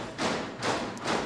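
Three heavy, muffled thuds from fists or mugs pounding a table as percussion land in a steady rhythm, close and moderately loud.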